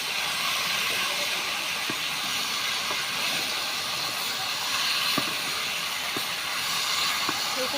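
Sizzling hiss as a little water goes into a hot pan of shrimp and hilsa fish heads with taro and eggplant, a steady, loud steam-like crackle with faint clicks throughout.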